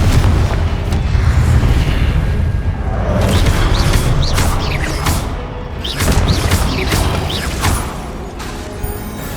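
Confringo spell blasts in the Hogwarts Legacy video game, loud and dense, with booming bursts and crackling impacts piling over a constant rumbling game soundscape.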